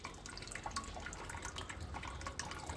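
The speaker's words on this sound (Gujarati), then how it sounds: "થોડી જ વારમાં આગળ પર પાણી ચાલુ થઈ જશે ને આ કંઈક પાણી પણ ચાલુ થઈ ગયું છે" Water starting to trickle and drip from a newly installed RO water purifier, a faint, soft stream with small intermittent droplet ticks.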